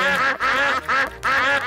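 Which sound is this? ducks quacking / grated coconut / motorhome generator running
ducks quacking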